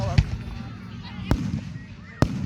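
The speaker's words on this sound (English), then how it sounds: "I'm getting the whole fireworks show" Fireworks show, three sharp booming bursts spaced about a second apart, with crackling and faint voices in the background between the blasts.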